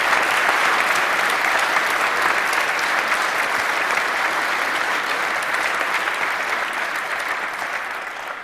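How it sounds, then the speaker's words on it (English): An audience at a hacker conference talk applauds the speaker, a dense, even wash of clapping that holds steady and begins to fade near the end. "Give him a round of applause."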